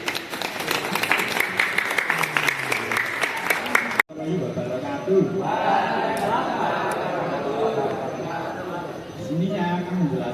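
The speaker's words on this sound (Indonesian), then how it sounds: "Yuk beri tepuk tangan" Applause from students in a school classroom session on electric vehicles, a steady wash of clapping mixed with chatter after a spoken passage, with voices continuing over it.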